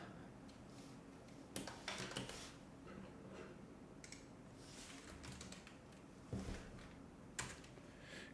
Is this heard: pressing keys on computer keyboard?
yes